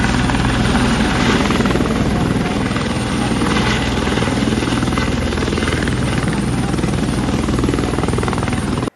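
A helicopter flying nearby, its loud, steady rotor thump and turbine whine continuous and close throughout, with no voices.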